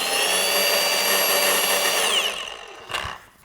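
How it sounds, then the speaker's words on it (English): A 5-inch DIY Detail waffle polishing pad spins in a pad washer, a loud steady whir that winds down near the end, followed by a brief rattle. "we're going to just clean this out in our pad washer"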